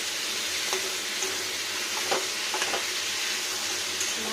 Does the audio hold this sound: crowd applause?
no